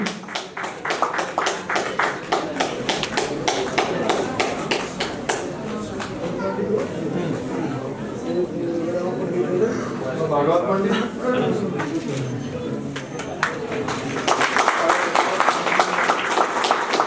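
Audience applause at a cooperative savings and credit society's twelfth annual general meeting, sustained clapping from a crowd that runs for most of the stretch, mixed with voices and tapping, swelling again near the end.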